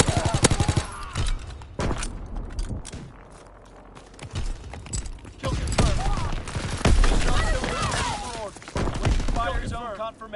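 Rapid bursts of gunfire from Call of Duty WWII, a World War II shooter, crackling in dense volleys with a gap midway, mixed with game voice callouts and sound effects.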